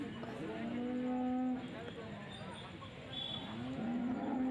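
Buffalo calves at a busy cattle market, with a long low moo and a second call a few seconds later rising over crowd murmur and people talking in the background.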